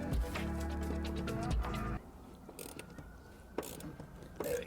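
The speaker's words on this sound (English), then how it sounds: "Bolt number 1. I'm tightening it." A ratchet tightens a seat bolt in a 1983 Porsche 944 under restoration, giving a quick run of close, loud clicking followed by quieter handling noises.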